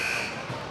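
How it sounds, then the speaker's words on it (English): Basketball game clock buzzer sounding at the end of the first half of a high school game, a loud sustained electronic tone heard across the gym with crowd noise beneath. "That shot by Constantine, I think, was after the buzzer"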